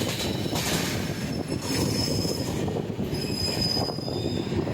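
Udyan Express pulled by a WDP4 diesel locomotive passes Khandala station without stopping, its wheels squealing steadily against the rails under a continuous rolling rumble from start to end.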